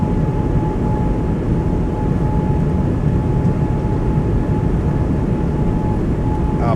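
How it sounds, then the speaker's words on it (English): Airbus A220 jet engines spooling at takeoff power during the takeoff roll in a flight simulator, a steady, loud, continuous roar with a faint tonal whine running through it and no talking. "Gonna be a long takeoff roll"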